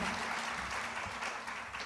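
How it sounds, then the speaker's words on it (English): Applause from an audience at an Appalachian evening concert, dense and sustained clapping from a crowd across the whole span, steady and fairly close. "Let's give him a big round of applause."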